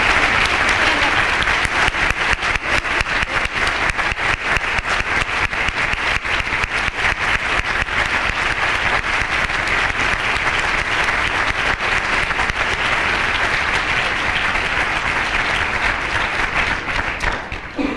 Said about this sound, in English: So one more round of applause for the students.